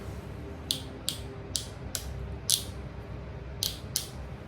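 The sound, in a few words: Matsui hair clipper lever clicking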